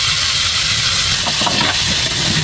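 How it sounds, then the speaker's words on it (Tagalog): Papaya sautéing in pork fat in a pan gives a loud, steady sizzle and hiss throughout, with scattered crackles and a few faint stirring scrapes toward the end. "Ginigisa na yung kandit na."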